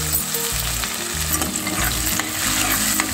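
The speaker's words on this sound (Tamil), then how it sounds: "இப்போ வெங்காயத்தை லைட்டாக வதக்கி விட்டுடலாம்." Sliced onion is lightly sautéed in hot oil in a pan, producing a continuous, fairly loud sizzle with stirring, set over low background music.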